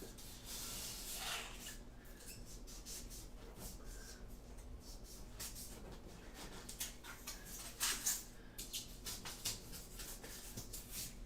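Blade scraping and rubbing through foam while cutting a trough for a Kashyyyk diorama build, a quiet, steady raspy scratching close up with short bursts of stroking.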